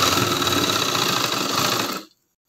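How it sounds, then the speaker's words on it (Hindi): A sewing machine stitching cloth runs as a steady, loud mechanical whir for about two seconds, then stops abruptly into silence. "इस तरह से आप क्रॉस में भी सिलाई कर सकते हो"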